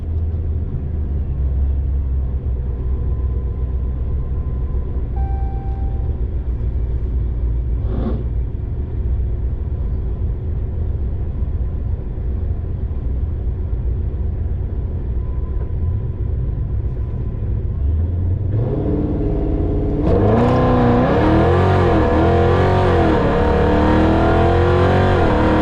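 A ProCharged supercharged 5.7 Hemi car idles with a low rumble, then launches into a loud boosted pass, its engine note climbing in repeated rising sweeps as it accelerates away.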